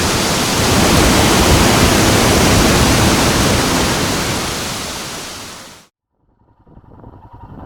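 Elephant Waterfall in Dalat pours down in a loud, dense, unbroken roar of falling water heard up close, cutting off abruptly before faint rustling returns.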